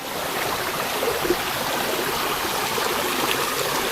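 A full-flowing rocky stream rushes steadily around someone wading through it, a close continuous broadband wash with occasional small splashes and no talking.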